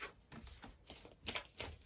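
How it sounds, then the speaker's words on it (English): A deck of animal spirit oracle cards being shuffled by hand, a quick flurry of soft papery riffles and slaps close to the microphone, fairly quiet, with no speech over it. "I'm shuffling the animal spirit cards"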